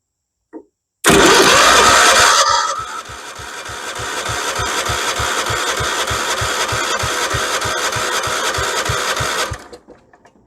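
Kohler K301 engine on a 1976 Vermeer LS200 log splitter, heard from close by. A loud burst comes first, then a steady stream of rhythmic cranking pulses that run for several seconds before cutting off.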